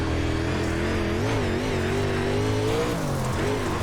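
A UMP modified race car engine drones steadily on a dirt oval in iRacing, its wavering, rising-and-falling pitch held at a constant loud level throughout with no pauses.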